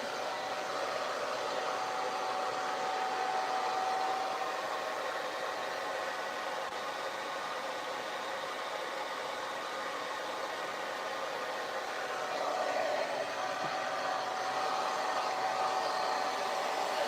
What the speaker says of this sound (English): if while you're diffusing, you diffuse the hair upside down, it allows you to get more volume in the middle and at the top